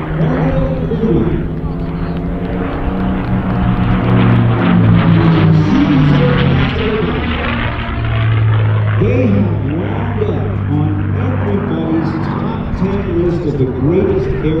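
P-51D Mustang warbird engine roaring loud and steady as the aircraft flies past at an airshow, the pitch sliding through a long continuous drone with speech over it.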